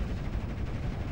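Brief, rough burst of unit gunfire in the WWII strategy game Steel Division Normandy 44, a steady rumbling rattle of shots throughout.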